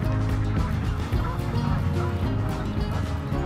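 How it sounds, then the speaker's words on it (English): Ducks and geese crowd close at a pond, a steady chorus of loud honking and gobbling calls running without pause from near range. "the ducks started swimming right up to me, I assume expecting a handout of food"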